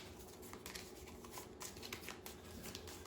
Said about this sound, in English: I'm just shuffling these up just so I don't know where the plot card is